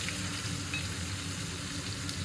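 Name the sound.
chopped onion with dry chili and cumin sizzling in oil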